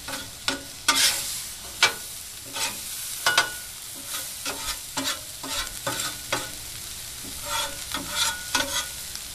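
Onions sizzling on a Blackstone 22-inch griddle, a spatula scraping and tapping against the flat steel in irregular strokes over a steady fry hiss, close by.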